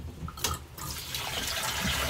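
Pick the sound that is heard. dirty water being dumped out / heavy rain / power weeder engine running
dirty water being dumped out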